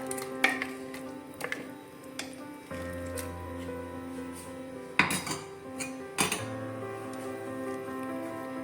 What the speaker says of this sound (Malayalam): മിക്സിയുടെ ജാറൊക്കെ ഒന്ന് കഴുകിയെടുക്കും ചൂടുവെള്ളത്തിലാട്ടോ